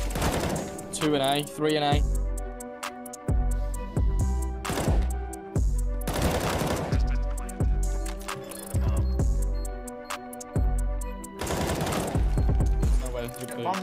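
Rapid bursts of automatic gunfire in the video game CS:GO, loud and repeated across the round, with players talking over the shots.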